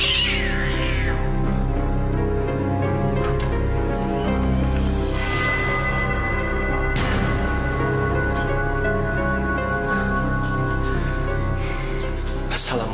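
Several cats meow and yowl close by, overlapping and drawn out, some cries rising and falling in pitch over steady background noise.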